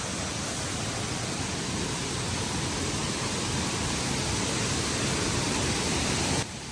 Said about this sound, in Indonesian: Di bawah sini masih ada air terjun guys tuh